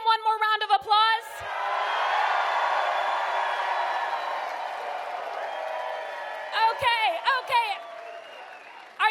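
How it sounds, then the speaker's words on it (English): A town hall crowd applauds and whoops for Mayor Pete, a steady wash of clapping that swells and holds for several seconds, with a voice speaking briefly before and after it. "Can we give him one more round of applause?"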